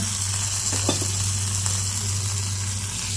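Hot tempering for curd rice sizzles in a steady, close hiss over a low constant hum, with a couple of faint stirring touches.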